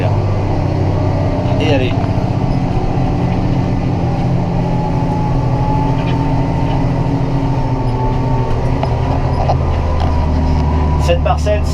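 A farm tractor drones steadily and loudly during stubble cultivation of a harvested field, the engine holding a constant throbbing tone throughout while a voice speaks briefly over it.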